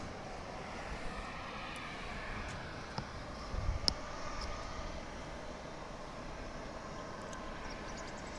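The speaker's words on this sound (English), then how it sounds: "It's a pushback. This is UPS flight 2711" A UPS Boeing 757 is pushed back from its stand at DFW International Airport, with a steady, moderately distant jet and engine drone and low rumble throughout, marked by a few faint clicks and knocks midway.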